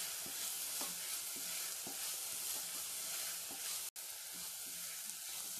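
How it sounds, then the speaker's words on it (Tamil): Cabbage kurma being sautéed in a pan over a low flame gives a steady, close sizzle, with soft periodic stirring ticks and one abrupt brief dropout near the end; no one speaks. "தீயை சிம்லே வச்சுட்டு வதக்கி விடுங்க, இல்லாட்டி கலர் மாறிடும் முட்டைக்கோஸ்லாம்."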